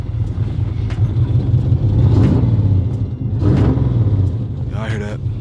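A Chevy El Camino engine runs with a steady low rumble that swells into a couple of brief revs, heard up close on a cold start. Faint voices come through underneath.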